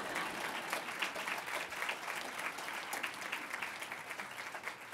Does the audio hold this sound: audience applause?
yes